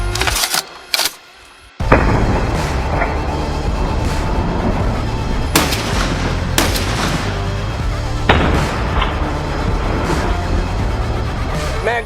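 A Barrett M82 .50 BMG rifle firing repeatedly in a rapid mag dump, heavy booming shots with long echoing tails outdoors, loud and close, one after another.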